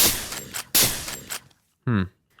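Two sharp, loud gunshots from a gun in the Minecraft Scorched Guns 2 mod, each followed by a short decaying tail, then a brief pause and a short voiced sound.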